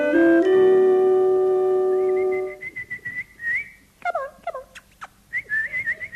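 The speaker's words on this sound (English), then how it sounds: "She whistled at cucumbers." A woman whistles at cucumbers, a loud sustained warbling whistle at first, then broken chirping and gobbling bird-like calls in quick bursts, alone without talk.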